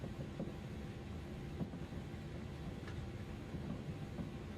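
Engines of an Airbus A300 with Pratt & Whitney powerplants in Microsoft Flight Simulator 2020 give a steady, fairly faint, buzzy drone like a lawnmower, continuous and unvaried.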